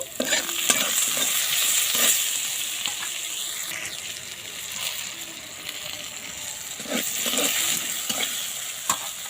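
Magur fish being stirred in a pan with salt and turmeric, a steady soft sizzle of frying with scraping and stirring strokes throughout, close and even.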